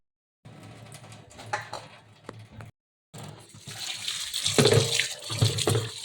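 Water splashes and trickles off a surface in two bursts, the second louder and more turbulent, with a short silence between.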